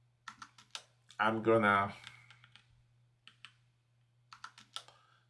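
Computer keyboard typing in short clicky bursts scattered around a brief stretch of speech, with a low steady hum underneath.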